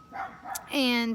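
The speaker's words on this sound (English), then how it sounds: "And that's my dog barking." A person says a word before a pet dog lets out one loud, close, drawn-out bark.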